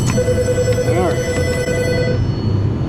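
A telephone rings with a steady, sustained electronic tone and a warbling trill, over constant background noise in a garage where a Toyota Solara is being worked on.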